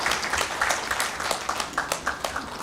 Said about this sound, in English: a big round of applause to all of us